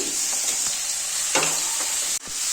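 Chopped onions sizzle steadily in hot oil, a continuous close frying hiss with a few soft stirring scrapes, no one speaking.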